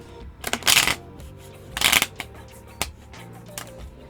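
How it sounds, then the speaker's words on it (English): Playing cards are riffled in quick, crisp bursts, two long shuffles and a few shorter flicks, close and clear with no talking. "My hands or my cards don't want to shuffle, or both."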